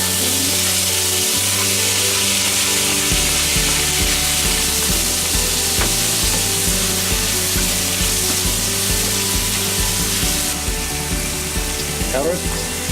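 Shrimps sizzle steadily in a hot pan for fried rice, a dense, loud, continuous frying hiss with occasional stirring clinks under it.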